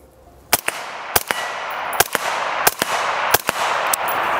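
Suppressed AR-15 rifle running an H buffer, six sharp shots spaced roughly half a second to a second apart, each a loud crack followed by a brief metallic ring and noisy tail, with no talk.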